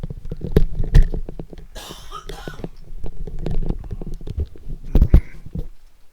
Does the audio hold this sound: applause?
no